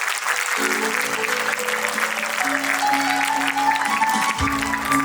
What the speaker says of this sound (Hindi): सो प्लीज एक बार जोर से तालियां।